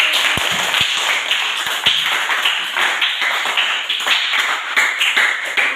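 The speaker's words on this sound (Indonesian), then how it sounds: "Baik, tepuk tangan untuk" Schoolchildren in a classroom at a junior high school clap together in a quick, uneven patter of sharp hand claps, close and fairly loud, with a few stronger taps standing out early on.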